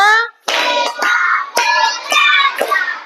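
An Indonesian class claps a rising counted sequence together, several tight groups of hand claps over steady group chanting, near and loud after a brief pause.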